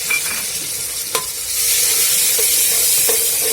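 Tomatoes hit a pan of golden-browned onions and spices, a clink followed by a loud, close, sustained sizzle and steady stirring with no talk.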